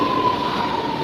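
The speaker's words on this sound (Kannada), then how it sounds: "ಮೆಟ್ರೋ ಬಂತು." A Chennai metro train pulls into CMBT station, giving a brief, steady rumbling hum with a thin sustained whine and no voices.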